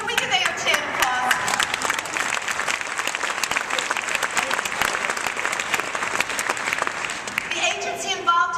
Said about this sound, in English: Can we give AOTA an applause?